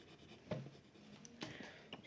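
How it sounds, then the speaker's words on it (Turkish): A pencil eraser rubs on paper over a drawing, giving a few soft, close scrubbing strokes in a quiet room. "şu taşan yerlerinde işte silgiyle siliyorum"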